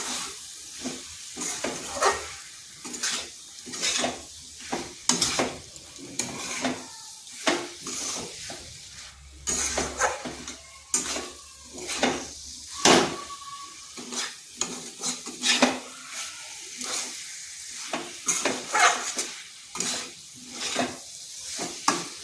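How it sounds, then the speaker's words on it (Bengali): Ivy gourd and fried potato sauté with spices in a new pan, a spoon scraping and knocking in slow, irregular strokes over a soft sizzle, close and moderately loud. "এটাকেও ওই মশলার সাথে বেশ কিছুক্ষণ কষিয়ে নিতে হবে।"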